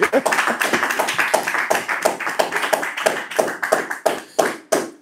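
A French-speaking congregation claps together during a Sunday church service, a dense and lively patter of many hands that keeps a loose, irregular beat, with no talking over it.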